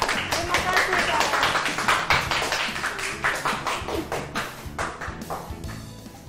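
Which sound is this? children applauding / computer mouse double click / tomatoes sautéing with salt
children applauding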